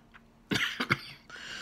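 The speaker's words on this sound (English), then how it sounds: "Still coughing." A person with a persistent cough lets out a short burst of two or three close, harsh coughs, followed by a faint breathy rasp.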